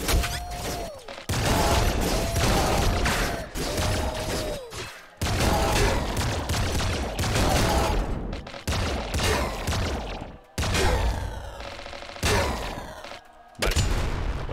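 Rapid bursts of rifle fire in the video game Nuclear Throne crackle in repeated volleys with brief pauses, loud and close, mixed with mechanical clatter and occasional booms.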